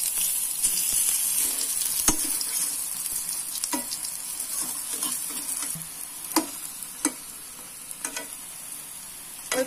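A dal and egg fritter fries in hot oil in a pan, giving a steady, close sizzle broken by sharp crackles and pops, with no voices.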